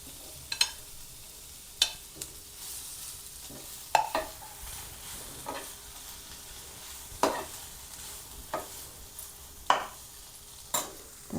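Diced potato stirred and sizzling in a pan of spiced oil with turmeric, a steady low fry broken by about a dozen sharp scraping stirs spaced a second or so apart, with no voices.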